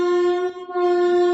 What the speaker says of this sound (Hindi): ये थोड़ा सा मैं रेलवे स्टेशन के बगल में बैठा हूँ इसलिए आवाज़ आपको मिल रही होगी ट्रेन की।